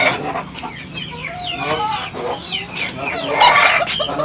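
Bekisar chicken, a cemani and junglefowl hybrid, crowing and clucking close by, with several short rising calls and a louder burst near the end, some voices faintly in the background.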